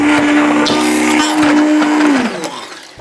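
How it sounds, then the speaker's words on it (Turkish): A blender motor whirs loudly and steadily with a strong hum while blending cherry ice cream, then winds down and stops near the end. "Vişneli dondurmamızı 5 dakika blenderdan geçirelim."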